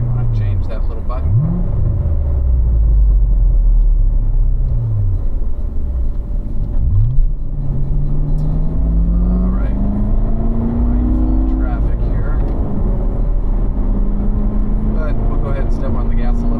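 A 2015 Corvette accelerates on a city street with a deep, loud engine rumble heard from inside the car. The revs climb and shift in pitch several times, and people talk over the engine.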